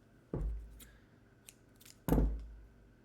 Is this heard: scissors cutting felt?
yes